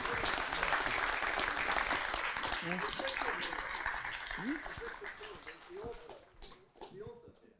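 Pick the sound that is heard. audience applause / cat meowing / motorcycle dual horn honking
audience applause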